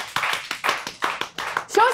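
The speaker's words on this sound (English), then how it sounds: "let's give a nice applause to our sexy Jason Duffy" A small audience claps for a man named Jason Duffy in a few loose bursts, close and fairly light, with a quick vocal whoop near the end.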